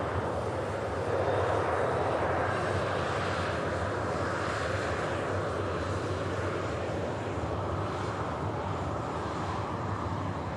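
A fixed-wing aircraft roars steadily at Manchester Airport, a broad, continuous engine rumble with a wind-like rush that holds at an even level throughout, with no voices.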